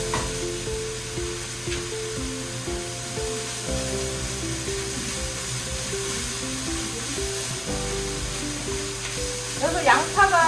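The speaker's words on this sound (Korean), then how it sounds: "나중에 간장을 추가한다던가 소금으로 간 맞추시면 돼요. 또 달달달 볶아주세요." Onions stir-fried in a pan for a Korean hijiki seaweed rice dish, giving a steady close sizzle with scraping stir strokes, under a constant background hum and a burst of clatter near the end.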